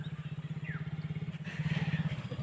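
A motorcycle engine putters at low speed with a steady, throbbing pulse as a learner rides it across an open field. The engine sounds fairly faint and slightly distant, and no one speaks over it.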